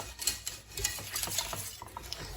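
A spoon stirs a thick yogurt soup mixture with flour and barley vermicelli in a pot, making quick, irregular scraping and clinking strokes, soft and close, with no talking.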